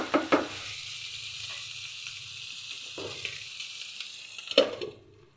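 Brinjal curry simmers and sizzles under a lid in a pan, a steady soft crackle running throughout with a few sharper clinks near the start and end.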